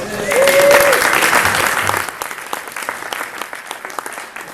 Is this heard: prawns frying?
no